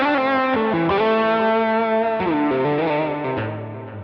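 Electric guitar through a Line 6 Helix Horizon Drive into a clean amp with the attack set low, playing a short melodic phrase of sustained distorted notes, smooth and rounded, loud and close with no talking.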